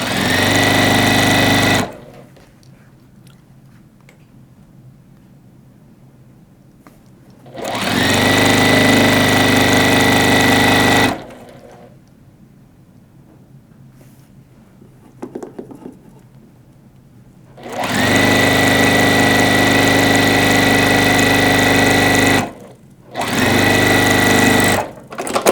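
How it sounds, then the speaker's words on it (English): A sewing machine stitches long strips of quilting fabric across a 44-inch width, its loud steady whirring running in several separate bursts with quieter pauses between them. "stitch the 44 inch width of fabric"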